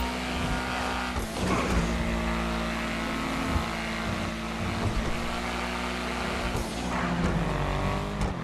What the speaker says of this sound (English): This is one of my favourite cars in the update. It sounds amazing and it handles really well.